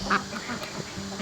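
Ducks quack at a farmyard duck house, a few short nasal quacks close by over a steady low background hum.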